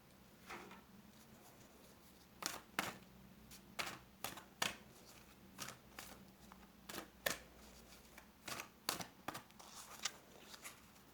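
A tarot card is drawn from the deck: soft, crisp card snaps and flicks in an irregular series of quick taps, close and quiet over a faint room hiss, with no talking.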